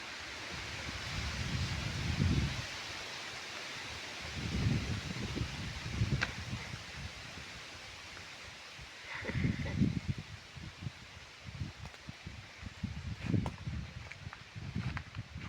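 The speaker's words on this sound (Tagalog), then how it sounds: "Bilis ng hangin." Strong wind blows outdoors in gusty bursts, rumbling and buffeting the microphone in low surges every few seconds, with softer hiss between gusts.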